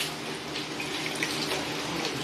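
Grated coconut squeezed by hand to press out coconut milk for Garifuna hudut gives a soft, steady wet trickle and splash of liquid running into a bowl, quiet and continuous with faint squishing.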